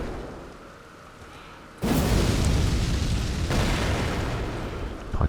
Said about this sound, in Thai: จี้ไปปุ๊บมันก็จะระเบิดนะฮะ